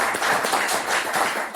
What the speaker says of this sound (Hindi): तो ताली बजा सकते हैं